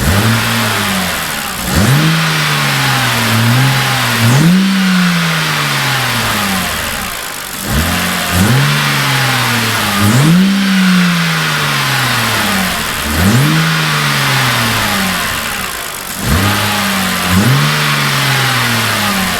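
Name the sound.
BMW engine revving with cold air intake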